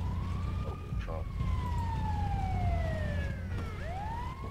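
An ambulance siren wails in a video game, sweeping up and down in pitch over a low rumble of traffic, close and fairly loud.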